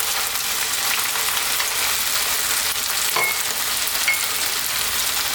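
Sliced onions hit the pan for a beef stir fry with oyster sauce and eggplant, producing a loud, dense, continuous frying sizzle that holds steady throughout with only a faint clink.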